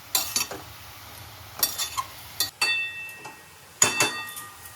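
Pumpkin greens and stalks are stirred in a cooking pot, with scraping and metallic clinks of a utensil in short bursts over a faint sizzle, close by and without talk.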